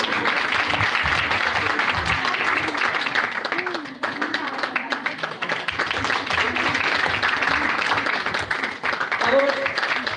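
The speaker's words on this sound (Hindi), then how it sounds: "वेरी गुड, ताली बजा दो।" An audience at a church event claps continuously in steady, dense applause that fills the room, with a few voices heard faintly beneath the clapping.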